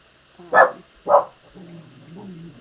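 A dog barks twice, loud and close, at a neighbor, then gives a few softer whining, grumbling sounds indoors.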